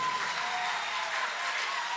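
A church congregation at a Christian assembly in Brazzaville applauds together, a steady wash of clapping that stays even and fairly loud from start to finish with no voices.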